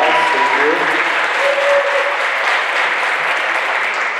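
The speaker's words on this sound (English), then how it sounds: "Let's give them a round of applause." A gym crowd at a varsity volleyball game gives a loud, sustained round of applause for the game officials, dense clapping throughout with faint voices mixed in.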